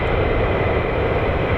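F-35 fighter jets taxi across the runway at an air base, a loud steady engine roar with a broad rumbling low end that holds constant throughout.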